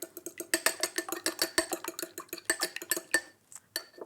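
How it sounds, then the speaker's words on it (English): An egg being beaten in a bowl with a whisk, fast rhythmic clinking taps of metal against the bowl repeating steadily and close, with no talking. "Give that a bit of a whisk."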